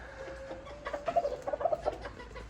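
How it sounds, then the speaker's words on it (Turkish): Cochin and Spanish chickens and roosters cluck in short, bunched bursts in an indoor coop over a faint background hum, with a brief rising call at the start; fairly close and moderately loud. "burada 3 horoz, 6 tavuk"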